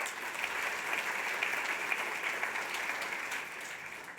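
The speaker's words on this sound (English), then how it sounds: "Now, a round of applause," Applause from a conference audience for a speaker at an insurance industry event, an even, continuous patter of many hands at moderate distance, steady from start to finish.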